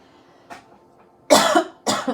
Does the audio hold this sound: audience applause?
no